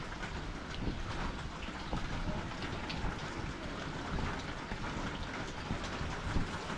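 Steady, dense rain from a cold storm pours down close by, a constant broadband hiss with scattered drops and patters, no voices.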